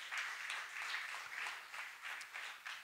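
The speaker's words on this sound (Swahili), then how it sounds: "Nipate mtu mmoja apigie Yesu makofi kwa ajili ya hayo." A church congregation clapping for Jesus during a Sunday sermon: steady, fairly faint clapping from a small group, continuous with slight pulsing, no speech over it.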